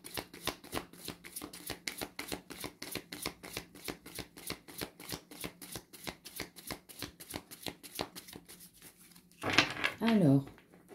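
Tarot cards shuffled close up in a fast, even run of riffling slaps lasting several seconds, after which a voice speaks briefly near the end.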